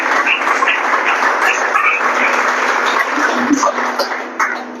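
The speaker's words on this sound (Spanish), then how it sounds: "Dese un aplauso en el nombre de Jesús." A church congregation applauds during a Spanish-language sermon service, a loud sustained wash of clapping from many hands that carries on evenly before tapering slightly at the end.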